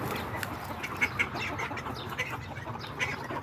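Backyard chickens squabbling over pecking order in the morning, a cluster of scattered squawks and clucks at moderate distance over a steady outdoor background, with no speech.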